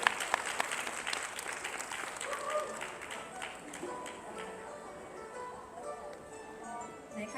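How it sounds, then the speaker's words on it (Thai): Wedding guests at a Thai engagement ceremony applaud the groom, a soft distant patter of clapping with a voice speaking faintly over it. "ปรบมือเป็นกำลังใจให้กับว่าที่เจ้าบ่าวของเราด้วยค่ะ"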